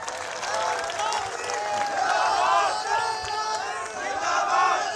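Rally crowd at a Constitution Day event in Khatauli, India, a broad roar of many voices with clapping mixed in, sustained and loud throughout, with shouting tones rising over the general crowd noise.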